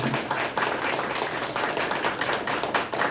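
Vigorous applause from the audience at a Democratic Party Daejeon chapter launch ceremony for the 22nd general election campaign team, dense, close clapping filling a short stretch without pause.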